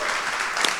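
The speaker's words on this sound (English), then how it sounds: "quick round of applause for this guy" A quick burst of audience applause at a live talk, a brief, thick wash of clapping from a crowd.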